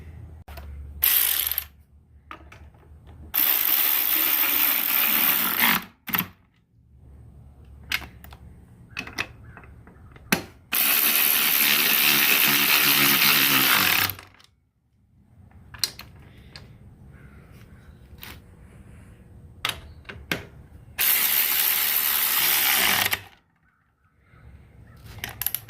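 Ratchet driving bolts back into a CVT cover, with several bursts of rapid clicking, each lasting a few seconds, close and loud, separated by quieter stretches with small knocks and handling noises.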